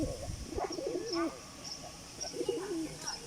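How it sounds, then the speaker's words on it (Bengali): Pigeons coo in soft repeated rolling calls at a water spot, several birds close by with brief pauses between phrases, no talking. "কিছু কিছু কবুতর পানি খাচ্ছে"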